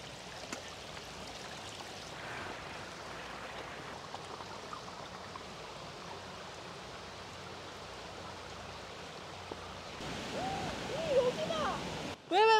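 Steady rushing roar of a waterfall, a constant wash of water noise that swells louder near the end, with faint voices mixed in.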